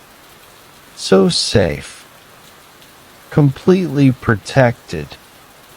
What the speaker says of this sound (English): Listen to the falling drops. A soft, continuous rhythm.